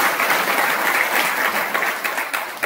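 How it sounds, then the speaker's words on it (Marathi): A crowd at a Shravan month religious gathering bursts into loud, sustained applause, a thick wash of many hands clapping at once, without a break and with no speech on top. "जोरदार टाळी वाजवा."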